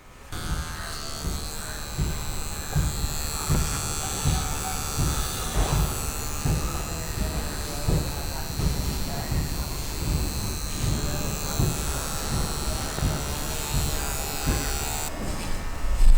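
A Qpets electric dog nail grinder buzzes steadily while trimming a Shih Tzu, a close, continuous motorized whine with small changes in load as it touches the nails, running nearly the whole time, with faint talking underneath.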